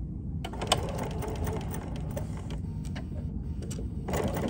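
A sewing machine backstitches quilting fabric for Tula fabric trays beside a quarter-inch foot, giving a steady mechanical whir with a brief pause and small clicks as the stitch direction reverses, close and moderately loud.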